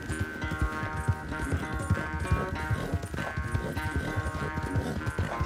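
Arabian horse galloping in the Red Dead Redemption 2 video game, a fast, steady drumming of hooves that runs throughout at close range, loud and dense, with game music or ambience underneath.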